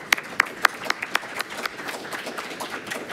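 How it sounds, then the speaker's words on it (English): An audience applauds to welcome a speaker at a talk on social media in war and protest, opening with a few loud, distinct claps before settling into softer, scattered clapping from the crowd. "please give me a round of applause"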